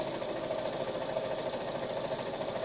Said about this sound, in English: I'm going to start quilting